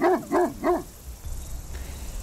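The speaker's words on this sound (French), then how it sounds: "Donc c'est des chiens qui sont très aboyeurs." A livestock guardian dog that protects sheep flocks from wolves gives three quick, loud barks in an even rhythm, followed by a low outdoor rumble.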